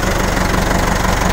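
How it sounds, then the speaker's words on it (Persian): A tractor engine chugs steadily as the tractor backs up, a loud, close, evenly pulsing mechanical rumble with no talk. "اسما راننده تراکتور داره میره عقب."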